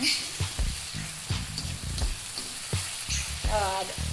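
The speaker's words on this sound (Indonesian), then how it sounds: "Kita goreng sampai harum bumbunya." Spice paste for a spicy kikil curry sizzles and crackles in hot oil while being stirred, with steady close frying and scraping throughout.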